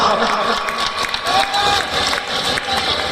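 Crowd at an outdoor volleyball match in Binapura clapping and cheering steadily throughout, a dense, lively roar with a commentator talking over it.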